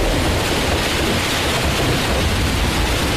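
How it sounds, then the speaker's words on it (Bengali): Heavy, driving rain in a dramatic storm effect, a steady, loud, broadband wash of downpour that continues unbroken throughout with no voices. "এইবার শুরু হলো ভীষণ বেগে বৃষ্টি।"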